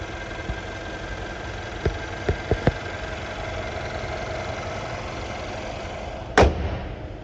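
A 2015 Mercedes-Benz SL550's 4.7 liter twin turbo V8 idles steadily with a low rumble, broken by a few sharp knocks and a loud thump near the end.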